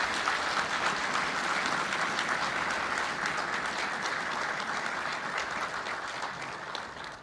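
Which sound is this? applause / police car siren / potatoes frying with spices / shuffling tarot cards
applause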